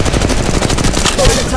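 Rapid automatic gunfire in the mobile shooter game Apex Legends Mobile, a loud, dense burst of shots in quick succession running the full length, close and punchy.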